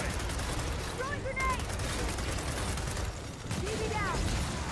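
Gunfire from the shooter Gears of War 4 campaign: sustained rattling weapon fire and mechanical clatter throughout, mixed with game effects and tonal sweeps, with talk over it.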